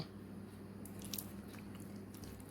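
Raw chicken worked by hand with a freshly cracked raw egg for pakora batter, soft wet squishing and squelching close up, quiet and continuous, with no speech.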